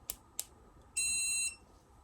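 Luoymbe dog training collar in sound mode gives a single steady electronic beep lasting about half a second, preceded by two faint button clicks.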